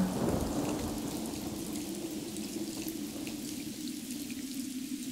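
Cartoon thunderstorm: steady heavy rain with a deep rumbling roll of thunder underneath, continuous and fairly quiet throughout, with no voices.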